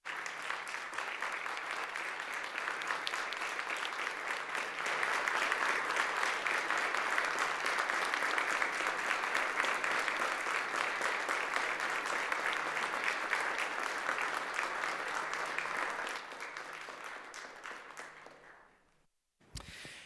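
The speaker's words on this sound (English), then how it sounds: "if we could all just give Assemblymember Monroe Moreno a round of applause for her service" A round of applause on a state Assembly floor, a broad wash of many hands clapping heard from a distance, swelling in the middle and fading away near the end.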